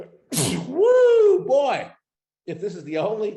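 A single loud, close sneeze bursts out near the start, followed by a man's drawn-out exclamation, a pause, then more speech.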